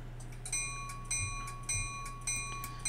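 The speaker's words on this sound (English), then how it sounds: "we can play the bell." Steel bell from an ESU V5 sound decoder in a model locomotive, ringing in a steady fast rhythm of about five bright, metallic strikes, each with a sustained ringing tone, close and clear over a faint electronic hum.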